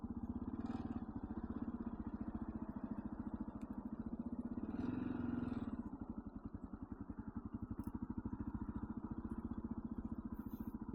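A Kawasaki KLR 650 dual-sport motorcycle runs steadily with a rapid, even single-cylinder thump, close and loud, swelling briefly midway as the rider opens the throttle.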